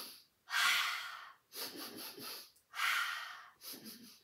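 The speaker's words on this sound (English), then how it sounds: "bunny breathing, breathe in and out really fast through your nose" Fast breathing in and out through the nose, demonstrating the bunny breath from a children's yoga pose: four sharp, close, loud breath bursts with hissing airflow, alternating inhale and exhale with short pauses between.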